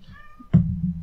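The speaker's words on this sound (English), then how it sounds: "you probably heard my cat complaining in the background" A cat lets out a single short, low meow, close by, following a faint tonal sound.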